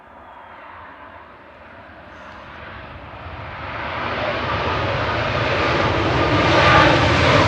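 A two-year-old Boeing 737 MAX 8 jet roars past near Manchester Airport, its engine noise swelling steadily from a moderate rumble to a loud, broad roar with no talking.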